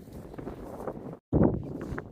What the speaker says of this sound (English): Can you hear me over the wind?